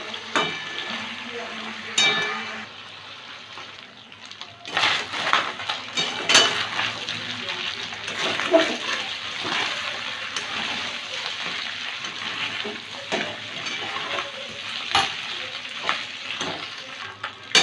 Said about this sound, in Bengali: খুব ভালো করে ভাজতে হবে